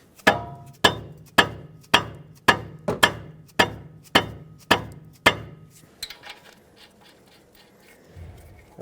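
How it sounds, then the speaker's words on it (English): A non-steel hammer strikes a tie rod stud on a Dodge Grand Caravan steering knuckle ten times in an even, close rhythm, then stops, leaving light shop rustling. "not a steel hammer, to tap straight down on this stud"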